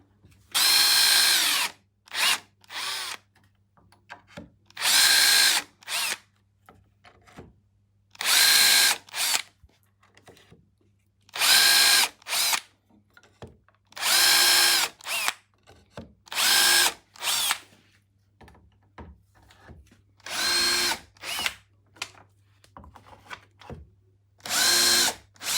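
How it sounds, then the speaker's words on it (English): Power drill fitted with a depth stop drilling side dots: repeated loud whirring bursts of one to two seconds each, about a dozen in a row, separated by short pauses and quiet handling noises. "I set the drill up with the stop in there, and then away we go."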